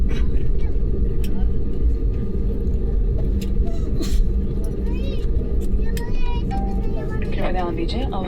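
Steady, loud cabin roar of an IndiGo Airbus A320 jet engine running, a constant low rumble filling the space while people talk and chatter over it.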